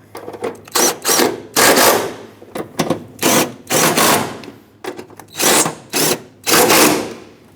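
A power tool tightens the battery tray bolts on a Ford E-350 in repeated short bursts, each burst a loud whirring rattle separated by brief pauses, heard close up with no talking.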